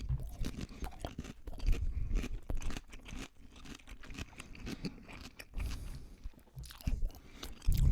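Someone bites into and chews a raw cucumber close up, giving repeated wet crunches and munching with no talking.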